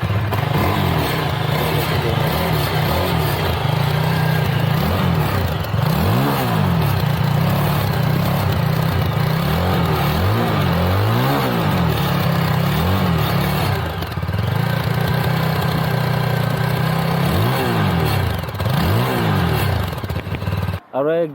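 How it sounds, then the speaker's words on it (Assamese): A Yezdi Scrambler motorcycle runs loud and close, its exhaust note rising and falling through repeated revs over a steady idle, with talk in the background. "বাইকখনৰ এবাৰ চাউণ্ডটো শুনি লওকচোন এক্সজষ্টৰ"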